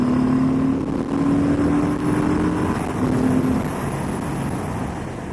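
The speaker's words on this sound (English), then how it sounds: "Let's do the acceleration test in second gear, 30 miles an hour. Let's open her up." A 2018 Harley-Davidson Sport Glide cruiser with the 107 engine pulls hard in second gear from about 30 mph, a steady, loud broadband roar of road and engine noise with a low rising drone heard up close, no talk.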